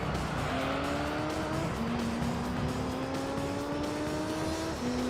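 Honda NSX race cars in Gran Turismo 3 roar continuously, engine tones rising and shifting as they accelerate through gears, with a loud sustained drone of several cars together.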